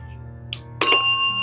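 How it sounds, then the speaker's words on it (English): A ghost-hunting bell device switches on during a paranormal investigation at the Omni William Penn hotel, giving a faint click and then a sudden bright electronic tone that holds steady over a quiet room. "I'm going to turn the bell on."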